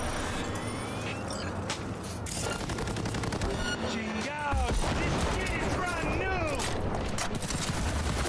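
Police gunfire in Cyberpunk 2077, rapid shots crackling repeatedly over a busy game soundscape, with sweeping tones and mechanical noises layered in; the firing grows denser and louder in the second half.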